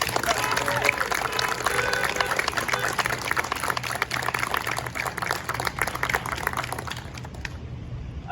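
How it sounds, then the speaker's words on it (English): An audience claps at a youth corps graduation ceremony in New Jersey, a dense, continuous round of applause that holds steady for several seconds and then drops off near the end. "If everyone could just give a round of applause for Steve."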